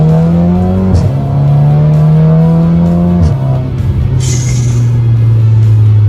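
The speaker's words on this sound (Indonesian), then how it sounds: "itu tadi ada suara siulan pas kita lepas gas. Itu spool back dari si turbo sistemnya." Loud, close VW Scirocco 1.4 turbo engine droning as it downshifts, with two sharp pitch jumps in the revs before settling to a steady hum and a faint high turbo whistle toward the end.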